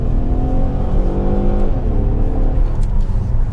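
A 2016 Ford Taurus SHO with the performance package and its 3.5L twin-turbo EcoBoost V6 pulls hard, a steady loud engine drone with rising harmonics heard from inside the cabin, no talking.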